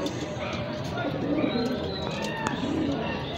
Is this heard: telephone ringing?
no